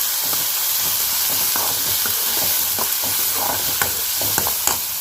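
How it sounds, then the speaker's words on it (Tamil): Lentils and green chillies sauté in a hot pan with a steady, loud sizzle and hiss, broken by repeated scraping and stirring strokes. "இப்போ இந்த பருப்பையும் சேர்த்து நல்லா வதக்கி வச்சுக்கலாம்."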